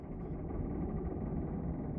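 A car engine running at a low, steady idle, a muffled mid-low rumble that stays constant and fairly quiet throughout with no voices over it.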